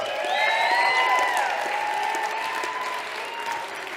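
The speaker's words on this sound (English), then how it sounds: "Let's clap for them, please." A crowd at a winter speaker series event claps loudly and continuously, with whistles and cheers cutting through the applause before it slowly tapers off.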